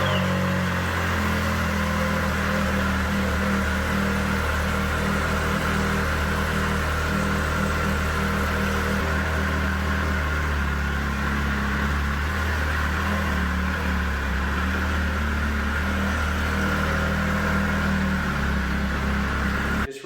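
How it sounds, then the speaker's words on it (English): A Yamaha Viper snowmobile engine, freshly refilled after an oil change, runs at a steady idle for the whole stretch, with a constant low drone and an unchanging mechanical hum close by. "I'm probably gonna fire up the motor, kind of get that oil circulating"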